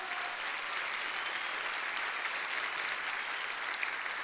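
Congregation applauding during a church testimony, a dense steady wash of many hands clapping together, sustained and even throughout without a clear break.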